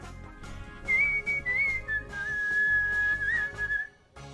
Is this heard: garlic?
no